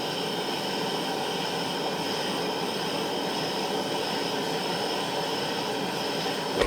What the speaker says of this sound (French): On met une flamme comme ça, pas trop fort. Et on va venir chauffer la partie qui m'intéresse, qui est ici.